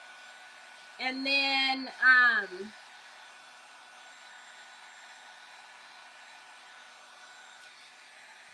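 A hair dryer drying a craft jewelry box project gives a faint, steady whirring hum throughout, with a short burst of someone speaking near the start.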